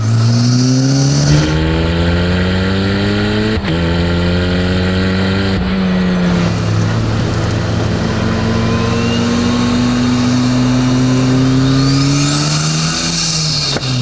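An Ariel Atom 4R engine revs hard through repeated rising gear pulls, loud and close, with a rasping titanium exhaust note and crackles between shifts.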